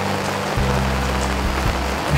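Steady rain pours onto a restaurant awning in a continuous close, dense hiss, with a low droning hum running underneath throughout.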